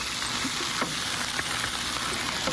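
Ancho chili powder and smoked sweet paprika are stirred into a sizzling meat and potato mixture in a pan, a continuous close frying hiss with a few light scraping stir strokes.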